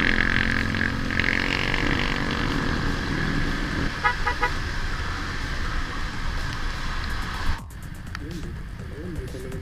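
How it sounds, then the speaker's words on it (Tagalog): Heavy road traffic in rain in the Philippines, with a steady engine and tire roar, several short car horn toots, and someone talking over the noise. "Traffic mga boss."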